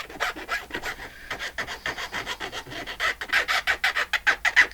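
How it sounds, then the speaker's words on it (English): Small metal tip on the end of a tape scrapes and rasps against a book surface in quick, rhythmic strokes, harsh and close, growing louder toward the end with no talking. "It's this little metal tip on that tape."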